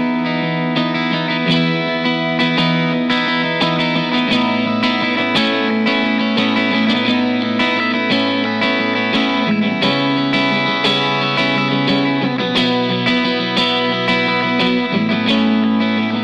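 An Aria Pro II Fullerton electric guitar, played through its middle pickup setting that combines humbucker and single-coil tones, strums continuous, full chords with an effects-laden, slightly distorted sound, loud and steady throughout with no talking.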